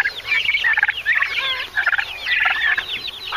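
Several turkeys gobble in quick overlapping bursts, loud and close, with brief pauses between the rattling calls, in a grassy pasture.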